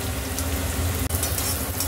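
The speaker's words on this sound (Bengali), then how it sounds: "গাজরটা একটু ভেজে নিই, তারপর বিনসগুলো দেবো।" Sliced carrots frying in a pan for Indian-style chicken chowmein give a loud, dense, continuous sizzle with one brief dip partway through, and no talking.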